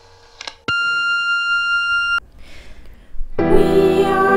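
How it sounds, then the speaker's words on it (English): A single loud, steady electronic answering machine beep sounds for about a second and a half, then gives way to other noise. "Please leave a message after the beep."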